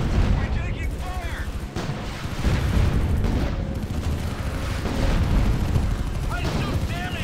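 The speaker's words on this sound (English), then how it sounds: "Our unit is under attack. We're taking fire!" Battle gunfire in the strategy game Art of War 3 rattles on continuously, with rapid bursts and booming impacts sitting close and loud while voiced unit callouts cut through now and then.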